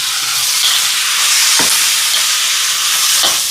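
Onions, curry chillies and tomato sizzle steadily in a hot pan, a loud even frying hiss with a few soft stirring scrapes, no voices.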